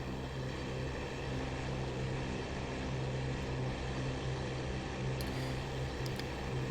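Fw 190 D-9 fighter's propeller engine droning steadily in flight within the DCS flight simulator, a constant low hum held at an even, moderate level throughout with no voices.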